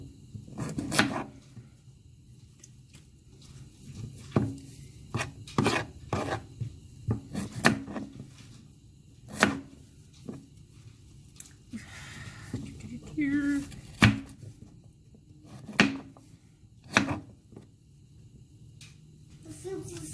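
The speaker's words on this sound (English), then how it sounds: "I'm cutting up these potatoes." Irregular knife chops cutting potatoes on a cutting board, sharp knocks scattered through the clip, with people talking nearby and kitchen clatter in between.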